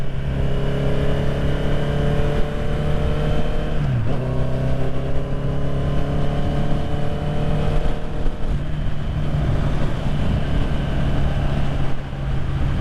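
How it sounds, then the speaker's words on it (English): A 2021 Honda CB650R motorcycle's engine drones steadily on the move, its pitch dipping sharply once partway through as it threatens to cut out, then carrying on under constant wind and road noise. "that feels like the bike is trying to cut out"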